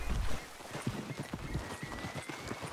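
Horse hooves clip-clop at a steady walking pace in Red Dead Redemption 2, moderately close and fairly quiet, set over a soft background hiss with no talking.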